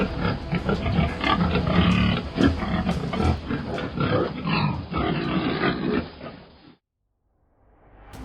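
Wild boars, an invasive species overrunning Florida farmland, grunt and squeal loudly in a dense, continuous chorus of overlapping snorts that cuts off abruptly near the end, followed by a short silence and faint returning noise.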